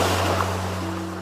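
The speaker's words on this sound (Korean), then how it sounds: "파도가 자갈 위로 얇게 밀려왔다가" Waves wash thinly over a pebble beach, producing a continuous, loud surf wash with a steady low hum running underneath.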